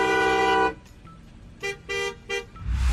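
Car horns honking on a road: one long sustained blast, a pause, then three shorter toots in a row, loud and near, with traffic rumble rising at the end.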